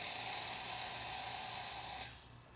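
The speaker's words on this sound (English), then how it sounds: "I'm gonna test the steam." The steam wand of an Elektra Microcasa semi-automatic espresso machine lets out a loud, steady hiss for about two seconds, then cuts off sharply into a faint fading tail.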